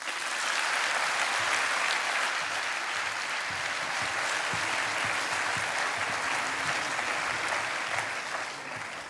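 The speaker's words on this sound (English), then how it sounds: "can I get one more applause for Frank Heijmann, Arno Kooij, and the whole team that made that presentation possible?" Sustained audience applause at a Netherlands Customs presentation event, a dense even wash of clapping from a large crowd that holds steady for several seconds before tapering slightly.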